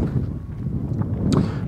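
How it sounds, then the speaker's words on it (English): Strong wind buffets the microphone near the summit of Kinder Scout in the Peak District, with a steady low rumble and gusting roar throughout, no voices heard. "very windy here now."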